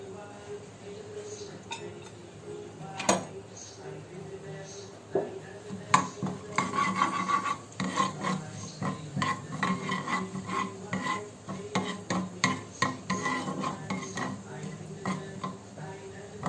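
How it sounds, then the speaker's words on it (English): Cumin and mustard seeds tempering in hot oil in a pan over a low flame, with a soft sizzle and spatter under steady clinks and scrapes of a metal spoon stirring, nearby and moderately loud. "Now add tadka to it, that is jeera and mustard seeds."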